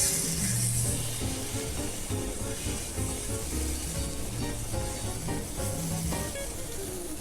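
Beef sears in a frying pan over medium heat, a steady close sizzle and crackle of hot fat running the whole time.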